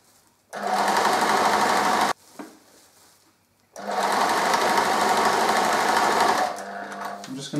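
A sewing machine stitches a tea cosy in two loud, close bursts of rapid, steady needle chatter, separated by a short pause with faint handling sounds, then slows to a stop.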